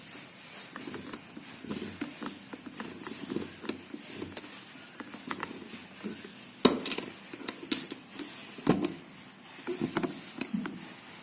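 A drill bit is fitted into the steel chuck of a Bosch GSB 550 drill, with close metallic clicks, taps and rattles scattered irregularly through the stretch and no talking.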